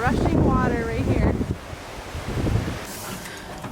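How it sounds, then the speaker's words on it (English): Rushing water and breaking waves at Dingle, Ireland, make a broad, steady roar mixed with gusty wind buffeting the microphone, and a voice is heard briefly at the start. "We have the rushing water right here."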